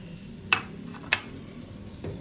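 Pieces of mutton go into a pressure cooker with hot ghee for Peshawari namkeen gosht, giving three quiet, sharp metallic clinks spaced about half a second apart over a soft background, with no talking.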